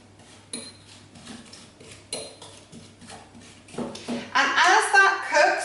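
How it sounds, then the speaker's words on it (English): Rhubarb and strawberry crumble filling stirred in a pan, with clinking utensil-on-pot sounds growing louder and busier toward the end as the mixing speeds up. "I'm just going to give that a little mix around"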